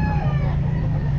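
A white kelso rooster at a pet market gives a loud, close, sustained crow lasting just over a second, with market noise underneath.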